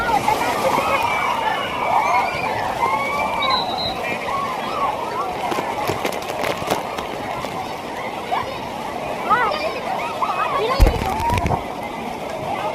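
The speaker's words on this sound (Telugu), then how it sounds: "first time water ఆడుకుంటున్నా" Water at a ride in Wonderla water park, Hyderabad, falls and splashes in a constant broadband rush close by, with a few sharper slaps, while people talk and shout over it.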